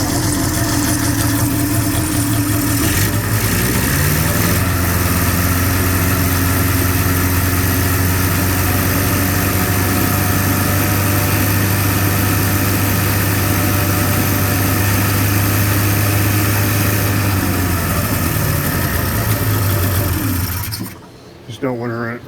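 A 1996 Polaris Classic 500 snowmobile's liquid-cooled engine idles steadily and loudly, a continuous low rumble with a mechanical chatter on top, running unbroken before cutting off near the end.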